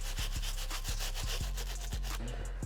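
A stiff bristle brush scrubs the midsoles of running shoes in close, loud rhythmic strokes, with short sharp bursts repeating roughly every third of a second and no talking.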